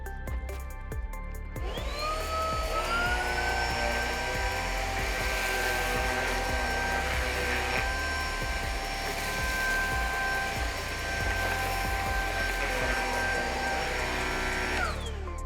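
A Riccar cordless upright vacuum runs on a hard floor with its brush on high, a steady loud motor whine and hum that starts after a brief pause and holds level before cutting off, with no talking.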